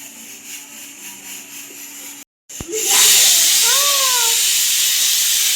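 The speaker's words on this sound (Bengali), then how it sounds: "এই হচ্ছে আমার নতুন প্রেশার কুকারের সিটির আওয়াজ" A new pressure cooker lets out a loud, steady whistling hiss of escaping steam. The blast follows a brief gap and quieter room sounds, and the rising and falling tones of the whistle sit over the hiss.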